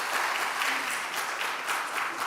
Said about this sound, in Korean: 우리 따뜻하게 한번 박수로 환영해 주시면 감사하겠습니다.